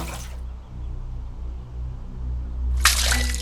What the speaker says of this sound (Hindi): आई पानी डाल के क्यों उठाया?